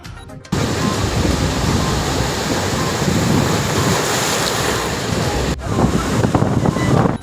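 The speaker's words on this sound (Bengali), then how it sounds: "কিছুটা উত্তাল রয়েছে কুয়াকাটা সংলগ্ন বঙ্গোপসাগর" Rough Bay of Bengal surf off Kuakata churns continuously under strong monsoon wind, a loud, dense roar with wind buffeting the microphone throughout.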